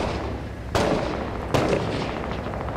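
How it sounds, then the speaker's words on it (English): Gunfire in the combat video game Six Days in Fallujah: two sharp, loud shots about a second apart, each with a short echoing tail, over steady game ambience with no speech. "Oh, shots fired on the right."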